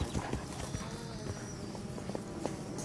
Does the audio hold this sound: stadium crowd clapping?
no